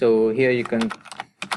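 Quick clicks from a computer keyboard as a string is typed, heard under and after a man's speech.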